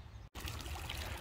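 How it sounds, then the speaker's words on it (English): Water pours steadily into potting soil in a kiddie pool planter, a close, continuous splashing trickle that breaks off for a moment near the start before resuming. "make sure you water really thoroughly before you plant stuff in pots"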